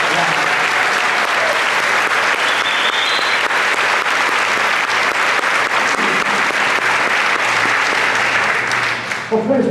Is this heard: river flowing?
no